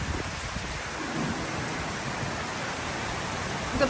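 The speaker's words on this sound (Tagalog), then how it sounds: "bigla talagang umulan, kumulog. Lakas ng hangin, malakas ang kulog ay." Heavy night rain falls with strong wind as thunder rumbles, forming a loud, constant broadband hiss that stays even throughout.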